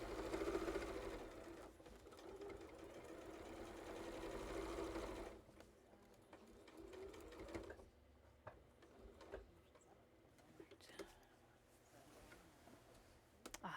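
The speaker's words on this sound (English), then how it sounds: "So now I will travel back by stitching in the ditch back to these adjacent jellyfish blocks" A sewing machine runs a steady mechanical stitching whir while stitching in the ditch along quilt blocks, loud for the first five seconds, then softer, intermittent bursts with brief pauses.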